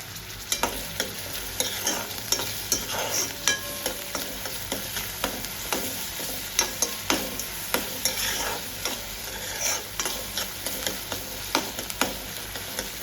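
Tomatoes fry with onion and garlic in a pan for masala Maggi, a steady close sizzle punctuated by regular scraping taps of a spoon stirring through the mixture.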